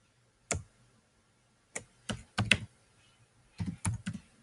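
Someone enters a username on a computer keyboard: soft, close keystrokes come in short irregular clusters separated by pauses, with no voices.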